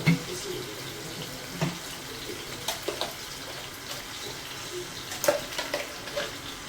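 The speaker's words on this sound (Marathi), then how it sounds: "पाणी मी ते उकळून घेतलेलं भाजीला आपल्या पाणी गरम टाकायचं" Hot boiled water poured into a pan of paneer curry makes a continuous close splashing and gurgling pour with a few louder bursts, and no voices.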